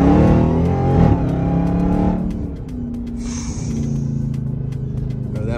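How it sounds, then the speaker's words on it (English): A Dodge Hellcat SRT engine revs hard up close, its loud growl climbing and then dropping back to a rumbling idle, with a few light clicks over it. "Hellcat SRT. I'm gonna rev it up for y'all right now."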